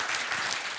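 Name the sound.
applause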